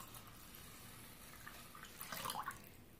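Three cups of water poured into a pot of washed Kalijeera rice, a faint trickling splash near the end over quiet kitchen background, with no talking.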